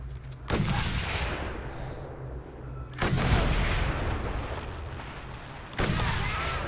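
Explosions from a thunderstick launcher in Mad Max, three sharp, powerful blasts a few seconds apart, each followed by a long rumbling tail.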